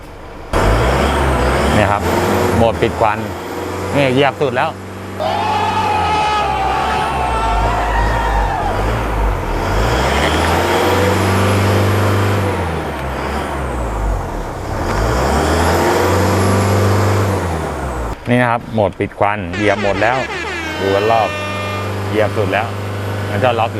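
Car engine fitted with a Power Boost electronic throttle controller revving up in stages, loud rising and falling engine tones close by, with someone talking throughout.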